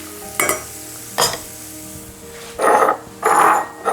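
Croutons cooking in a pan, with a few short bursts of scraping and stirring followed by two louder, longer sizzling sweeps near the end; no one speaks.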